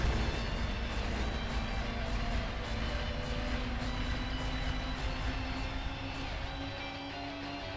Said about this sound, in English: I think that explosion effect got stuck.